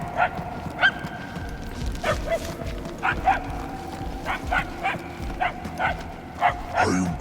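A dog in the Guardians of the Galaxy video game gives a series of short, faint barks and yips at irregular intervals over game ambience and low background noise.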